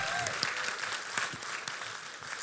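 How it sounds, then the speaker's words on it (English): A crowd at a Queensland Senate candidate campaign event breaks into steady, dense applause that carries through the whole moment at moderate volume, with faint voices underneath. "big round of applause for all the candidates here for standing up for freedom"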